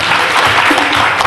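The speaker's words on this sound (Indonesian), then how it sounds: "Boleh kasih tepuk tangan buat Tuhan kita yang luar biasa." Loud, dense clapping from hundreds of children at a Christmas celebration in Jakarta, a close, continuous burst of applause filling the short moment with no voices.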